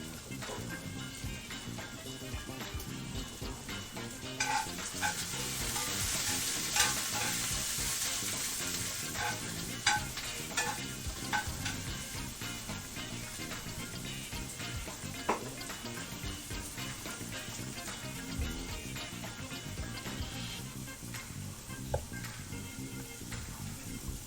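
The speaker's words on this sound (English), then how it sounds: "turn down those onions and give them a stir" Onions fry gently in a pan, giving a soft continuous sizzle with scattered faint ticks and scrapes from stirring, distant and quiet throughout.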